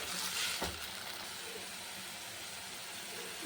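Ginger, green chili and tomato paste fry in a pan with potatoes for vegetarian ghugni, a steady moderate sizzle with a brief clatter near the start, no talking.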